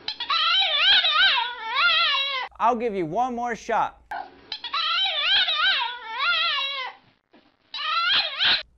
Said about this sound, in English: If you said a dog, you're right.